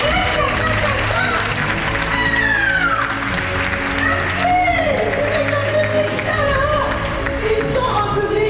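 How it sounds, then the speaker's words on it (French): Festival audience at the 24th Écrans Noirs festival cheering and clapping under loud music, with voices and whoops rising over a continuous crowd roar. "C'est la partie où vous devez vraiment applaudir,"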